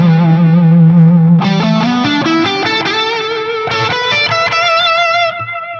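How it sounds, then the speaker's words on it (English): A 1968 Gibson Les Paul Custom electric guitar driven through two overdrive pedals plays a saturated lead line, with sustained notes, rising phrases and thick gain, loud and close with no voices. "So most of the girth and the overdrive and the gain is happening from these two pedals"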